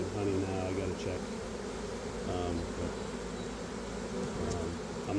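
A swarm of honey bees hums as a dense, continuous buzz of many wings, steady and fairly close, with individual bees droning past now and then and faint voices in the background.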